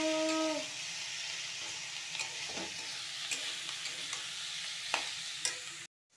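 Potatoes fry in hot oil in a home kitchen, giving a steady broadband sizzle with scattered crackles and occasional stirring scrapes; the sound is close and continuous, with no talking, before ending abruptly.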